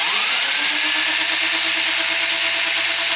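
A handheld electric drill whirs at a steady high pitch with its trigger held to break in the motor of a Traxxas 4-Tec 3.0 Corvette Stingray RC car, loud and continuous with no voices.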